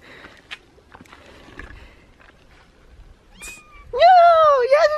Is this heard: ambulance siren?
no